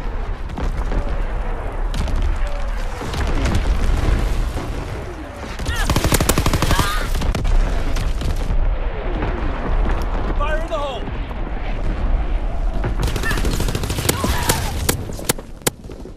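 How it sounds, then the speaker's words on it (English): Enemy artillery and gunfire in the Call of Duty WWII video game: loud, close booming blasts and rapid bursts of shots keep up almost without a break, with several sharp crackling volleys and heavy impacts layered over a constant rumbling din. "Incoming enemy artillery!"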